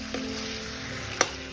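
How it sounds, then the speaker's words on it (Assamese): Local chicken marinated in mustard oil, salt and turmeric frying in a pan, a soft steady sizzle with a couple of faint clicks, one sharper near the end. "এতিয়া মই মেৰিনেট কৰি ৰখা মাংসখিনি দি দিছোঁ"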